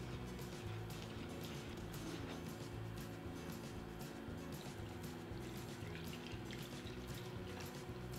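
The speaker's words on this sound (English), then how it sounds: "Slowly mix it in, a little bit at a time with a spoon." A spoon stirs cold milk into a chocolate pudding mixture a little at a time, giving a steady, close liquid swishing and clinking that runs continuously without pause.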